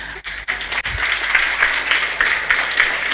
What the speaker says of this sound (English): So, big applause from our side to ma'am.